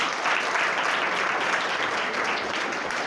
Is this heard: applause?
yes